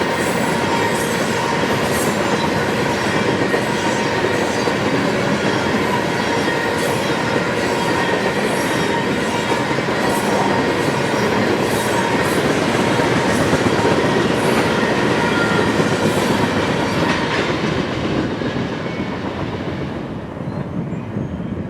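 An ethanol freight train rolls past on the Mohawk subdivision in upstate New York, a loud, sustained rumble of wheels and cars with faint squeals and clatter, easing off near the end.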